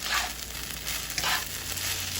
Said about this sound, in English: Just fry it until you see it's not as starchy.